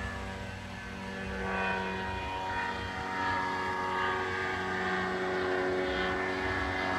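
A small propeller airplane in flight drones steadily with a harmonic engine hum at moderate distance, swelling slightly as it passes, with no talk.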